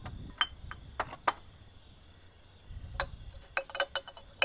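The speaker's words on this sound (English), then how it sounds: "If this sounds like clinking glass, you're right." Glass bottles from a collection clink against each other in several bright, sharp bursts that come close together, with a quiet pause in the middle before a denser run of clinks near the end.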